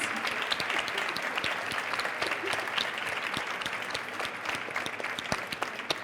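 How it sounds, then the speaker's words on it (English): Audience applause at a university event, a steady crackle of many hands with distinct individual claps standing out, moderately loud and continuous throughout. "A big applause, please."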